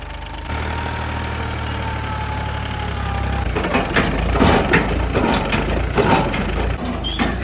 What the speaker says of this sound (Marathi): गेलाय ट्रॅक्टर